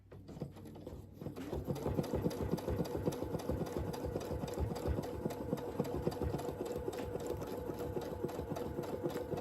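A sewing machine stitches a churn dash mini quilt, running steadily at a fast even whir with a rapid needle rhythm throughout, close and loud with no talking.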